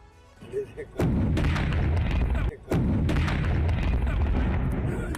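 A single heavy grenade blast booms suddenly in the open by a river, followed by a loud rumbling roar of debris and echo, with a brief dip before the rumble continues.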